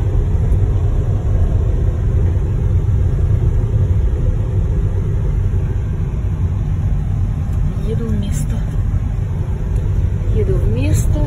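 Cabin noise from a car driving along a road into town, a constant low rumble of tyres and engine with faint brief squeaks near the end.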